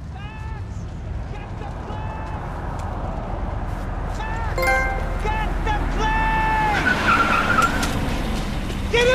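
Car driving and skidding during a Max Payne 3 cutscene, a steady engine roar building over the clip with tire squeals and screeches layered on top, mixed with music and effects.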